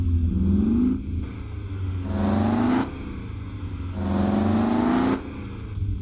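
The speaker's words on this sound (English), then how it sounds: "It sounds more like a race car than it does an actual rig" A modded truck engine in American Truck Simulator revs hard in three long surges that climb in pitch like a race car, loud and close, with short drops between pulls and no voices.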